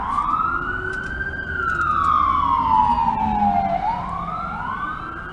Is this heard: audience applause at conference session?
no